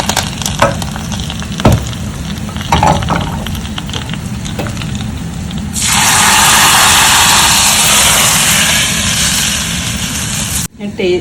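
Hot tempering is poured into a Guruvayur-style rasakalan curry. A few clinks and stirring knocks come first, then a loud, hissing sizzle bursts in and holds for several seconds before stopping abruptly.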